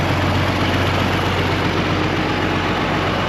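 Big International Harvester four-wheel-drive tractor engine idling close by, a loud steady low rumble with an even throb that holds unchanged throughout and has no talk over it.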